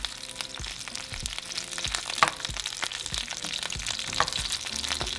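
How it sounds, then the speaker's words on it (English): Chiles and tomatoes sizzle steadily in a hot pan, a soft continuous frying hiss with scattered small crackles and pops, fairly quiet and with no talking. "once that begins to sizzle"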